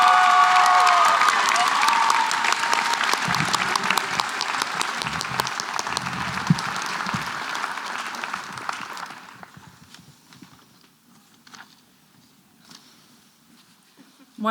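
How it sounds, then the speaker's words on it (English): A school prize-giving audience applauds steadily and loudly, the clapping fading away toward the end into near silence. "we'll give them another round of applause"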